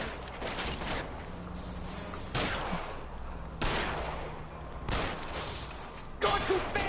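Gunfire rings out during a car chase shootout in L.A. Noire, with several sharp bursts spaced a second or so apart over steady engine and road noise.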